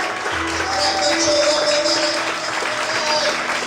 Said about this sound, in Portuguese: Então, aplauda